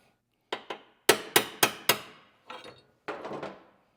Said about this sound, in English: I'm just putting the drift here on the insert and just giving it a tap to slide it over